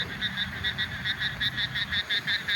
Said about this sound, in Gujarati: દેડકા બોલે દેડકા વરસાદના